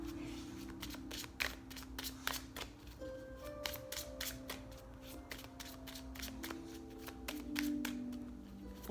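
Tarot cards being shuffled by hand, with a rapid run of crisp flicks and riffles that continues throughout, close and fairly quiet.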